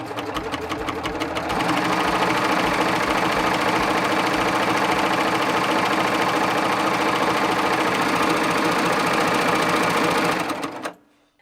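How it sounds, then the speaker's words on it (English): A Baby Lock serger runs a cover stitch in one loud, steady, close mechanical whir lasting about ten seconds before it winds down and stops. "Now I'm set up and ready to show you what a cover stitch looks like."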